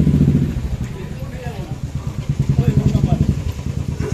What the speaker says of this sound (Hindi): पापा तो बाइक पे बैठे, भाई भी बाइक पे गया